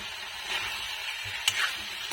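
Chicken pieces for chili chicken sizzling in a hot pan, a steady bright frying hiss with occasional scrapes and clicks of stirring, close and alone.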